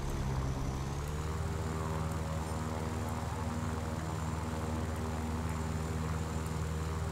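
Bomber in the War Thunder video game: a steady, droning propeller engine roar that holds constant and loud throughout, with a deep harmonic hum and no talk over it.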